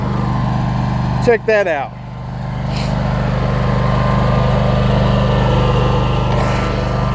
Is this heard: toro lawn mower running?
yes